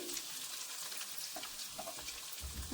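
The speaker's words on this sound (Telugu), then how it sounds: "ఎగ్స్ వేసుకున్నాక కాసేపు ఫ్రై అవనివ్వాలి" Eggs fry in a pan for egg noodles, giving a steady close sizzle with small crackles and occasional stirring. No voices are heard.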